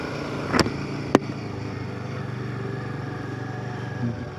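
A Royal Enfield Himalayan 450 motorcycle rides along a monsoon road, its steady engine hum running throughout with two sharp clicks or knocks near the start.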